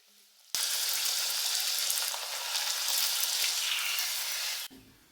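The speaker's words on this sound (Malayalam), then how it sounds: "പൂരി ചുട്ടെടുക്കുകയാണ് അമ്മ." Puri frying in coconut oil in a freshly washed home pan: a loud, bright sizzle bursts in abruptly, holds steady for about four seconds, then cuts off sharply, with no talk over it.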